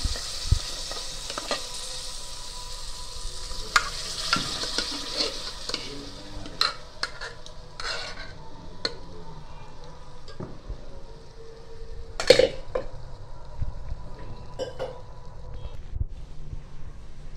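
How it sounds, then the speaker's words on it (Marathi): Lentils (dal) tipped into hot tempering in a pressure cooker crackle into a steady, moderately loud sizzle, with scattered clinks and stirring scrapes throughout and no voices. "आपण आता हे डाळ फोडणीला टाकतोय"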